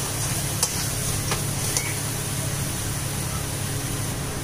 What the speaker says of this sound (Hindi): अभी हमें मसाले को अच्छे से भूज लेना है।